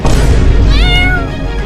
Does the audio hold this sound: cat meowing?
yes